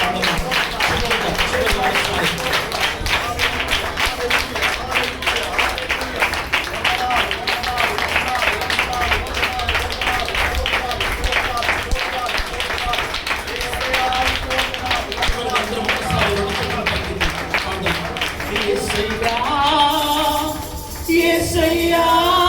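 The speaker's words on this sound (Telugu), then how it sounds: "ఒక్కసారి అందరం బిగ్గరగా చప్పట్లు కొడుతూ ఆయన నామమును" A worshipping congregation at a Sunday prayer service claps loudly and steadily throughout, the dense rapid claps running continuously alongside music and singing, with voices prominent until the clapping thins near the end.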